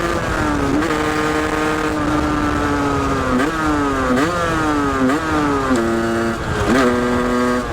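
A Rieju MRT Pro SM supermoto motorcycle being ridden, its loud, close small engine droning steadily and rising and falling in pitch through several gear changes and throttle blips, with no talk over it.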